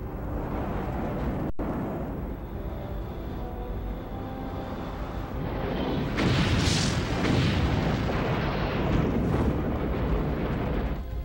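A simulated asteroid impact explosion rumbles as a dense, roaring wall of low noise that swells louder midway and keeps booming and crackling without any voices.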